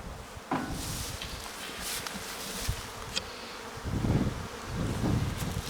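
Honeybees from a recently hived purchased swarm buzz steadily around an opened hive, a dense close hum with brief rustles and handling knocks, no talk.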